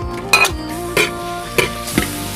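Pork belly stir-fried in hot oil in a wok with scallion, ginger and chili: a steady close sizzle broken by four loud, evenly spaced spatula scrapes and clanks against the pan.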